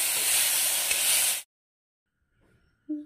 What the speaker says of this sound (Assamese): এতিয়া কুচিয়া ভাজি কৰোঁ তেলত